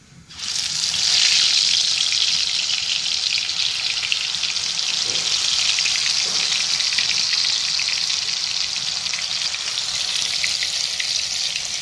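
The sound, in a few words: dal pakoras frying in an old kadai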